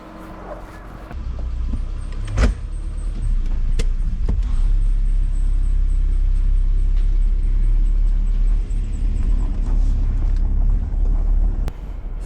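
Old Subaru engine running roughly after a jump start, a loud, low, uneven rumble that holds throughout, with a few sharp clicks and clunks on top and no talking.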